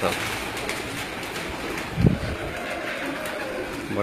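Breeder pigeons on a rooftop in Gujrat district coo softly, with one low, close coo standing out midway over constant background noise.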